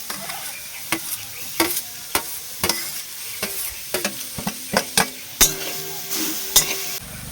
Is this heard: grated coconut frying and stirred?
yes